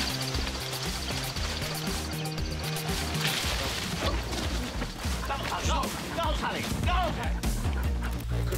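A dog barks and yips repeatedly while chasing a feral cat up a tree in the Australian bush, the excited barking continuous and near, with a voice talking over it.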